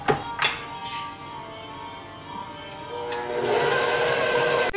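An electric mixer whirs through oatmeal raisin cookie batter with vanilla, starting in short bursts and then running steadily and loudly with a rising motor whine.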